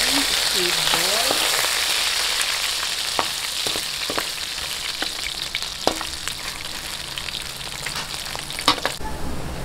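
Squid balls sizzle steadily in a hot pan of oil for pancit canton, a continuous bright frying hiss with scattered pops and crackles, fairly close, and a brief voice near the start.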